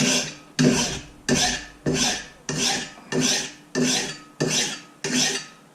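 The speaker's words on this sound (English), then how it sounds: "what I found an easy way to sharpen it was to just clamp it on the top and basically throw on my file" A hand file sharpening a Kobalt battery lawn mower blade clamped in place, eight loud, close rasping strokes in an even rhythm, each stroke sharp at the start and fading out.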